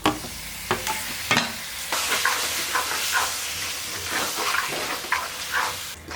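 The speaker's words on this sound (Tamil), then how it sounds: "இந்த மாதிரி நல்லா மசிச்சு போட்டுக்கலாம்." A brinjal and tomato mixture is mashed and stirred in a pan on the stove, with soft scraping strokes and a steady sizzle and hiss up close, and sharper clicks where the spoon hits the pan.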